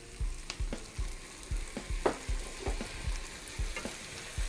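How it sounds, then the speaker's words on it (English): Apples sautéing in a pan with sugar, black pepper and maple syrup, a close, lively sizzle broken by a rhythmic run of spatula scrapes and taps, about two per second. "we're going to continue to saute this for 5 minutes until the apples have lost a lot of their moisture"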